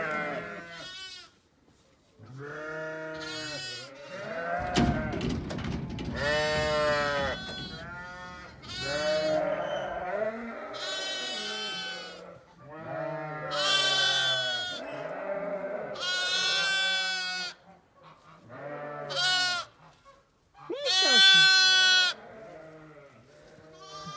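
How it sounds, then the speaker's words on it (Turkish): Newborn lambs on a village farm bleat over and over, loud and close, with several overlapping calls in uneven bursts and a short rustling clatter partway through. "Nasıl bağırır kuzular?"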